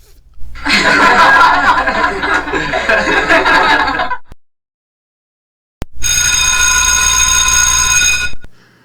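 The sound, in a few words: school bell ringing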